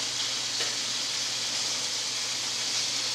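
Hamburger patties fry in a pan with a steady, close sizzle and hiss, broad and unbroken throughout, with no talk over it.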